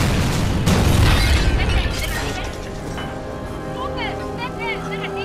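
A heavy injector explosion in the video game Titanfall 2 booms loudly at the start and rumbles off into a mechanical hum, with electronic tones and warbling effects trailing after.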